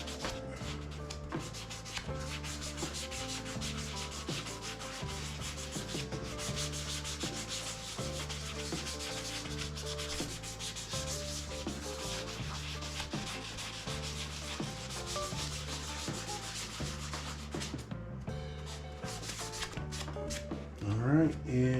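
Guitar frets on a Telecaster build being sanded with higher-grit sandpaper, close rhythmic back-and-forth strokes repeating steadily, ending with a louder handling rustle.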